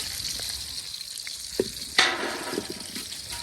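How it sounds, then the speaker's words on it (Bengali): Fish fries in a pan with a steady near sizzle, punctuated by a couple of sharp clinks and brief crackling spurts, with no one speaking. "বিউটি আপা এদিকে মাছগুলো ভেজে নিচ্ছে"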